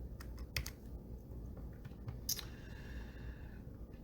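Someone types a number on a computer keyboard: a few quick, quiet key clicks in short bursts against a faint background hiss.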